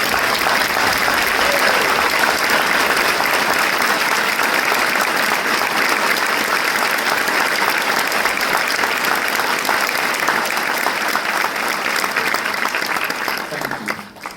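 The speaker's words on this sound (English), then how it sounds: "Let's give all of our veterans a big round of applause to show that we are forever grateful." Big, sustained audience applause for veterans at a culinary college baccalaureate ceremony, a thick wash of clapping that stays loud for over ten seconds before tapering off at the end.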